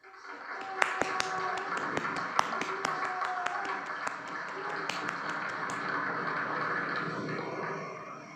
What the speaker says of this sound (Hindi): आइए हम इनके इस काम को, इस प्रदर्शन को अपनी तालियों से सराहें